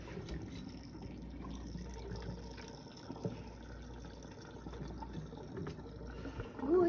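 Hot cooked vegetables dumped into a colander in a kitchen sink, water draining with a continuous splashing and trickling wash for several seconds, then a louder burst at the end.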